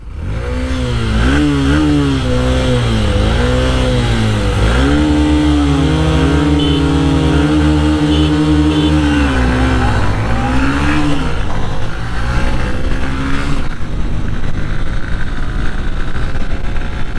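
A Honda SP 125 and a Bajaj Pulsar 125 motorcycle in a drag race, engines close and loud, revving up through rising and falling gear changes in a sustained roar that fades somewhat toward the end.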